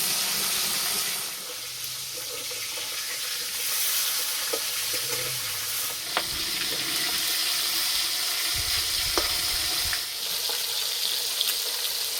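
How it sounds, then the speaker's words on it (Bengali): Pieces of pona fish fry in hot mustard oil in a village kitchen, giving a steady, close sizzling hiss with a few soft clinks and stirring knocks, and no talking. "তেল গরম হয়ে গেছে, এবার মাছ ভেজে নেব।"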